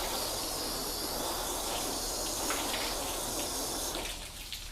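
Water floods over a graphene-sealed car panel and sheets off, giving a steady close hissing gush that holds evenly before tapering near the end, with no talk.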